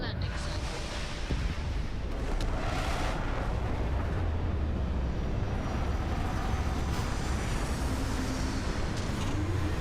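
A spaceship touching down in the video game Starfield, a continuous low engine roar and rumble with a few swelling whooshes, steady and fairly loud, with a voice briefly talking over it.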